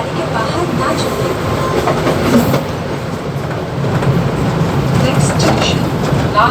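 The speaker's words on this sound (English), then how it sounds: "Please do not lean out on the running train." A Mumbai local train runs between Borivali and Virar, wheels clattering steadily with a loud continuous rumble and occasional squeals, while an announcement voice is heard over the noise.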